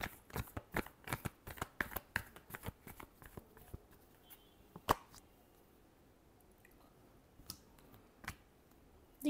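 Tarot cards are shuffled in a quick run of crisp riffling slaps and flicks, dense at first and then thinning to a few scattered snaps, close and quiet.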